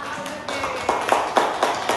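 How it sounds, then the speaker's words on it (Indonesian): Students in a classroom give a short burst of applause for a fellow group, with a handful of distinct claps landing in an uneven rhythm at moderate volume and no voices. "Tepuk tangan dulu buat kelompok auditori"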